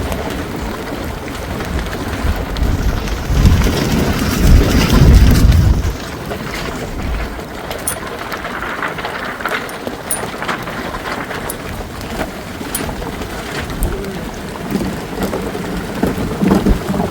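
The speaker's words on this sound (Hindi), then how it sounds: "तो बिजली कड़की इतनी जोर से" Heavy rain pours steadily in Dhikala forest, with a deep rumble of thunder swelling early on before the downpour continues alone, hissing and drumming on surfaces.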